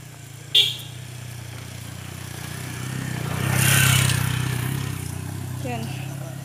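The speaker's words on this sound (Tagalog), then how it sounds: "Tsaka yan na naman yung mga motor." Motorcycles pass by on a road, with one short horn toot near the start and engine noise swelling and then fading as they go by. People talk underneath.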